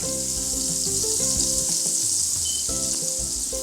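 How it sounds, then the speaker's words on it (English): Butter sizzles as it greases a hot pan, a bright steady hiss filling the whole stretch, close and alone, with faint clinks of utensil movement. "the pan is hot, so I'm just gonna, as you can see, I take this amount of butter and I'm just greasing the pan just like this."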